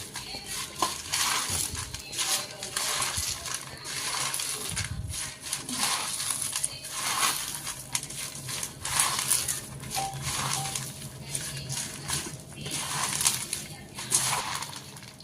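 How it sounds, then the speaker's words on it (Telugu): Bitter gourd boondi being squeezed and mixed by hand in a bowl, giving a steady, close crunching and rustling over about fifteen seconds with occasional clinks of utensils. "పిసుకుతూ బాగా మిక్స్ చేసుకోండి"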